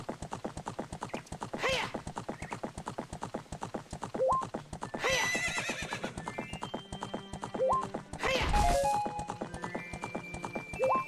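Rhythmic clip-clop of a galloping horse in Zelda: Ocarina of Time, steady and continuous, with a few whinnies and short game chimes over the hoofbeats.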